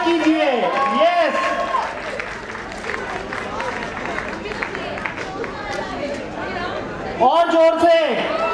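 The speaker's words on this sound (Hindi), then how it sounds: "जोरदार तालियों से इनका स्वागत कीजिए।" Crowd applause and cheering chatter at a 25th wedding anniversary celebration, steady clapping and hubbub throughout with a host speaking over it at the start and end.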